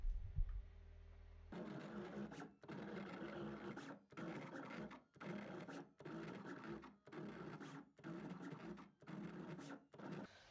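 A vinyl cutter slices designs into a vinyl sheet, its motor whirring in repeated bursts of roughly a second each, separated by brief pauses, close and alone.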